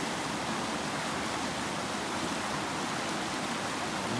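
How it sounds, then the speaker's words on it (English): Small river flowing through wet, boggy country threaded with little creeks and beaver-dam-like pools, giving a steady, broadband rushing wash that stays even and unbroken throughout. "It's a beautiful little river."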